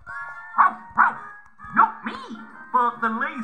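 A voice imitates a dog barking, a series of short yappy woofs, about six bursts, close and loud, with spoken narration running through them.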